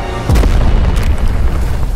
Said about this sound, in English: heard the sound of an explosion in the distance